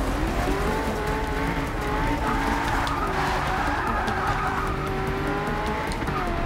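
Tires squeal and lose grip on a Shelby GT350R in Forza Motorsport 6 on the Nürburgring, a continuous loud skid over steady engine drone that holds for several seconds without a break.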